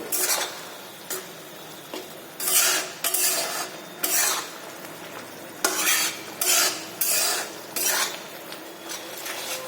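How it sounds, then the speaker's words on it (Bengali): Sauce ingredients for chicken in lemon butter sauce are stirred and sautéed in a pan: about ten rhythmic, loud scraping strokes of a utensil over a soft background sizzle. "এবারে এই সব কিছুকে একটু ভালো করে কষিয়ে নেব।"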